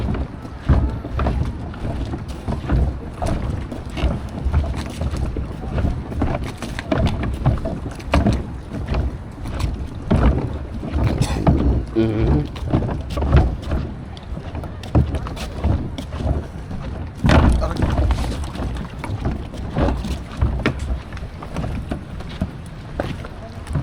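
Speedboats pass at sea off Boracay, their engine drone and hull slap on water continuous and fairly loud, mixed with wind buffeting the microphone.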